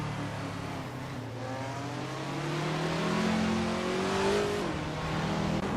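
Engines of vintage supercars in a racing video game, several cars close together with rising revs and gear-change pitch shifts, a steady loud mix with no talk.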